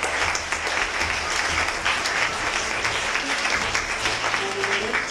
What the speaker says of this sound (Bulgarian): Аплодисменти за вас